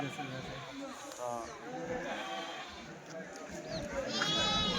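Sheep bleat repeatedly nearby at a livestock market, several overlapping calls, mixed with people talking and haggling in the background.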